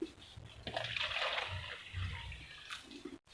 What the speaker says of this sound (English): so I need to water them again after planting